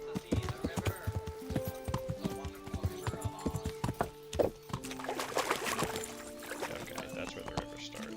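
A horse in the medieval video game Kingdom Come Deliverance trots with rapid, steady clip-clopping hoofbeats throughout, close and clear, with occasional tonal game sounds mixed in.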